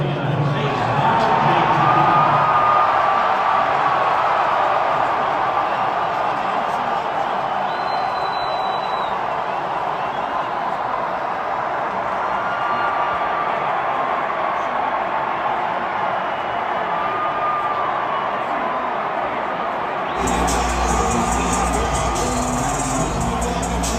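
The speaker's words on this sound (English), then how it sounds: "the crowd really roared when they showed Trump on the JUMBOTRON screen at the game" A huge stadium crowd at an Alabama-Georgia college football game roars continuously, a dense, loud wall of cheering that holds steady for over twenty seconds before cutting abruptly to different noise.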